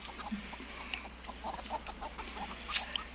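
Chickens cluck in scattered, uneven bursts from a coop close to living quarters, moderately loud against a low, steady background hum with no talking.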